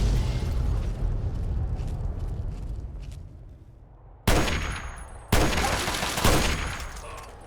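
Planted charges detonating in Fallout 3: a rumbling low roar gives way to three sharp, loud blasts in quick succession, each with a bright crackling burst and a decaying rumble, no talking.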